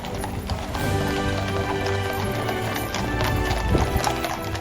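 Household Cavalry horses clip-clop along a London street, with steady overlapping hoofbeats amid street ambience and a brief whinny.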